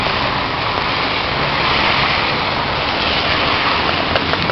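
Steady, dense rain pours down outdoors as a loud, even hiss throughout, with no talking.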